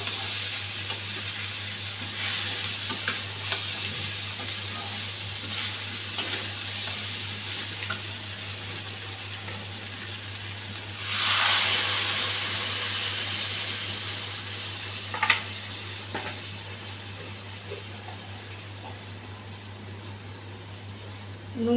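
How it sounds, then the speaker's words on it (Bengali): Drumstick pieces, potatoes and boiled eggs fry together in a pan for a curry, a steady moderate sizzle with occasional stirring clatter and a brief louder hiss partway through. "ডাটা আর আলুগুলা দিয়ে দিলাম। ডিমগুলোও দিয়ে দিচ্ছি।"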